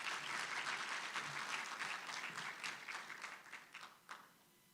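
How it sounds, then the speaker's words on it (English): A conference audience applauds for an official about to open the gathering, steady clapping that thins out and fades over a few seconds, ending in a few scattered claps. "Let's give him a good round of applause"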